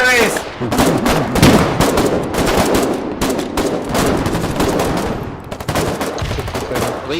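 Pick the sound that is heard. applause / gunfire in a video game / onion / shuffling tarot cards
gunfire in a video game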